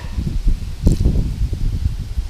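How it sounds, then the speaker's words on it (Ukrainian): Steady low rumbling buffet of strong wind across the microphone while pike fishing outdoors, continuous and close, with brief gusty flurries throughout. "дуже сильний вітер, дуже заважає"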